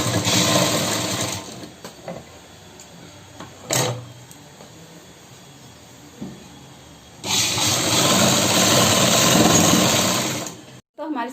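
An electric sewing machine stitches the bottom of a salwar, loud close whirring runs at the start and again for several seconds later, with a quieter stretch between where a voice speaks over faint handling sounds.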